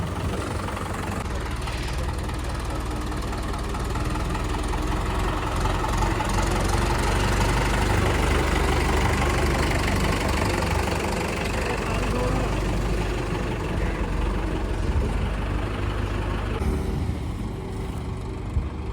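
A motorcycle engine runs steadily close by for the whole stretch, a constant low rumbling drone with slight rises, with faint voices under it at times.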